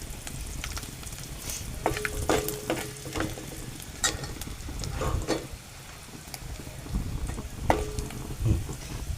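Garlic sautéing with a pinch of turmeric in a pan, a close, steady sizzle broken by repeated sharp scrapes and clinks of a spoon stirring.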